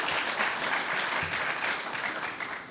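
Steady applause from an audience at a college athletics symposium panel, dense and continuous, somewhat distant and moderately quiet.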